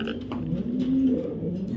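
A male blue checker racing pigeon coos softly nearby, a low rolling murmur with one steadier drawn-out note, fairly faint.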